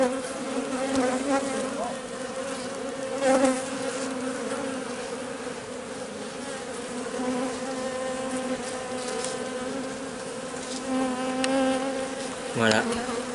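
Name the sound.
bees buzzing during bee rescue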